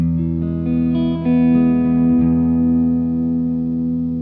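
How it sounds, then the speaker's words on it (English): An electric guitar chord rings out through a Game Boy-style effects pedal with tape-emulation warmth, warm and slightly saturated, sustaining smoothly before slowly fading. "Just creates a little bit of warmth and a bit of that sort of like tape emulation kind of sound."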